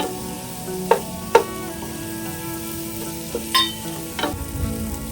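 Green chilies sauté with crushed ginger and garlic in a pan for a Yemeni-style chicken mandi. A low sizzle carries a handful of sharp stirring knocks and scrapes at uneven intervals.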